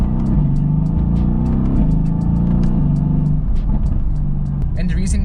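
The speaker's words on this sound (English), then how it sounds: "So this is what you call short shifting." Car engine held at low revs while the driver short shifts with paddle shifters, a steady droning hum with slight pitch drops at each upshift, under someone talking throughout.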